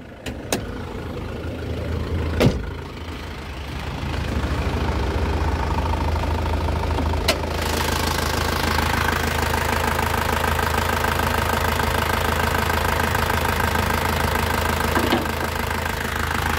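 A first-generation Isuzu Panther LV with a 2.5 diesel engine idles, its steady loud clattering rumble running continuously after a few sharp clicks at the start.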